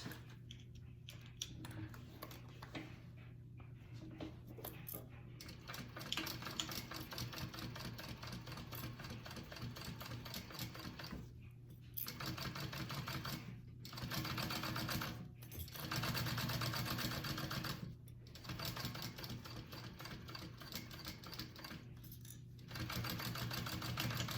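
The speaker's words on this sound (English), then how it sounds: "We're gonna go ahead and top stitch that" Sewing machine top stitching a curved fabric bag, running in steady bursts of rapid stitching with several short pauses between runs, close and alone with no voices.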